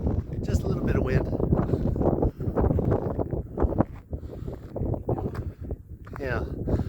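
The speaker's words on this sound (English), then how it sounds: "Just a little bit of wind." Gusty wind buffeting the microphone on an exposed height at Badlands National Park, rumbling and roaring throughout while people talk over it.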